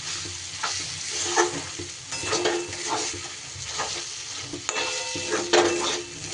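Dal stirred and fried in a kadai for a shiuli-leaf chalkumro shukto, a steady close sizzle with repeated scraping stirs of a utensil against the pan, no voices.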